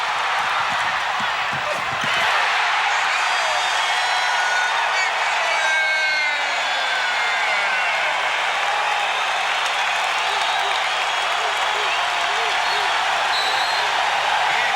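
A basketball arena crowd at a 1989 Orlando Magic vs Detroit Pistons game roars and cheers at full volume. The broad, sustained wall of noise builds after a sharp rise near the start, with a faint announcer voice underneath.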